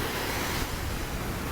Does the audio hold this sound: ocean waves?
yes